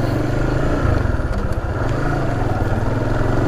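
A Honda Supra GTR 150 motorcycle rides over rough mountain terrain, its engine giving a steady, close, continuous drone with some rattling.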